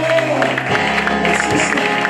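A church congregation at a French-language worship service applauds and cheers, sustained clapping mixed with crowd voices and some speech over it.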